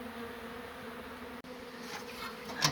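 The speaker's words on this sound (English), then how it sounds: "brushed these bees off heaps of times." Honey bees relocated from a brick beehive make a steady, dense buzz, close and continuous, with a few louder individual passes near the end.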